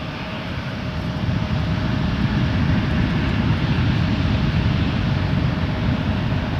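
An Emirates airliner taking off at Toronto Pearson Airport, a broad, steady jet roar that swells in the first second and then holds loud and constant, with no voices.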